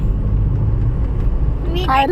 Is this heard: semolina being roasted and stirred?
no